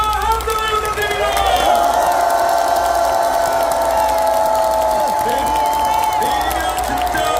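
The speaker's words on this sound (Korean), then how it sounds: "이재명에게 큰 박수와 함성을 부탁드립니다." A large crowd at the final campaign rally for Lee Jae-myung in Yeouido Park, Seoul, cheers and applauds loudly and without pause, a dense roar with ringing tonal sounds running through it.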